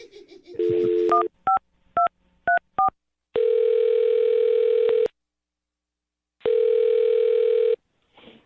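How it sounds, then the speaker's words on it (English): Phone call to a radio show contestant's number: a quick run of DTMF dialing beeps, then two long ringback tones separated by a pause, loud and clean with no talking. "I'm going to dial her phone number right now"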